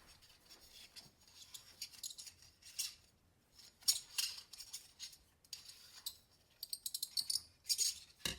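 Photographic film being wound back onto its spool close up, giving soft scratchy rustles and small clicks in irregular bursts, quiet and intimate with no talking.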